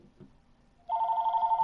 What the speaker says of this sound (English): Here we go again with another phone call.